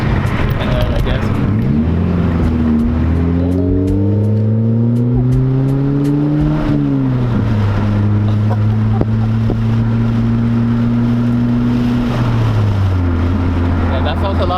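A Mazda 3 with a 6-speed manual gearbox climbs through the revs, eases off, then pulls again at a steady pitch through a turn in second gear, loud and close, with a shift audible partway through.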